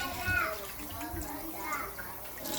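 Homemade butter is rinsed in cold water, with soft sloshing and running-water sounds heard close by while someone talks over it.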